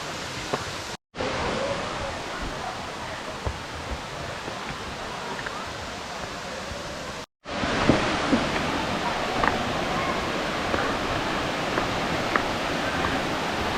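Erawan waterfall in Kanchanaburi rushes as a steady broadband roar of falling water heard from nearby, with two brief dropouts and a few faint knocks, no voices audible.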